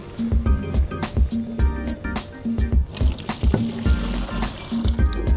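Penne for puttanesca finishes cooking in a Swanson broth tomato sauce, giving loud, close wet squelches, bubbling and sloshing in a repeated stirring rhythm.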